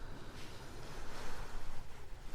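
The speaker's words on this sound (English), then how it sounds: "There's a little creek runs right down here where I got my water. I can hear it in the background." A small mountain creek runs beside a car parked for a cold night, giving a steady broadband rush of flowing water that swells slightly, close and continuous with no talking.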